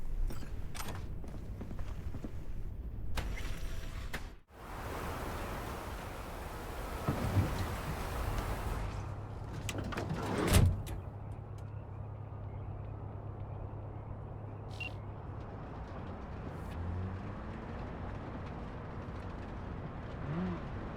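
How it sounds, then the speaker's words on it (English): Thunderstorm in the video game Cyberpunk 2077: steady rain hiss and low rumbling throughout, with a sharp thunder crack near the middle, no talk. "That storm is picking up steam."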